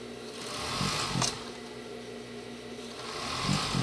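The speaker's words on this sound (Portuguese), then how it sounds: "Vamos costurar novamente, ó." Sewing machine stitching lace onto the leg of a pair of shorts, a steady whirring motor hum with a few brief louder surges, close and alone with no talking.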